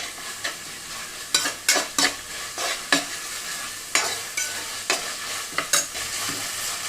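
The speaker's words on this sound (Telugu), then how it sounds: "అల్లం వెల్లుల్లి పేస్ట్ వేగిన తర్వాత ఇందులోనే కొత్తిమీర, పుదీనా, కట్ చేసి పెట్టుకున్న పుదీనా వేసేసాను." Ginger garlic paste frying with coriander and mint in a pan for broad beans pulav, a constant sizzle broken by a string of sharp scraping stirs at an uneven rhythm, close and clear.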